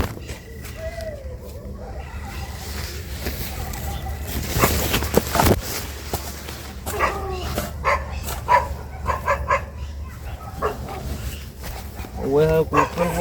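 A dog barks several times in quick bursts toward the end, with people talking and birds chirping around it.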